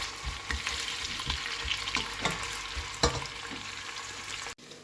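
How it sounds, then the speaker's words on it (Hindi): Onions frying in hot oil for chicken biryani, cooked to a crisp golden brown, with a constant close sizzle and rhythmic stirring scrapes, ending in a brief cut. "बाकी वाली प्याज अच्छी सी गोल्डन ब्राउन करनी है"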